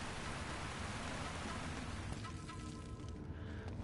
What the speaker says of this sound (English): Now there's a waterfall.